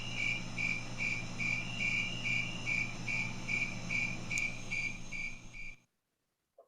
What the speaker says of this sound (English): So we had to do it with the snowy tree cricket.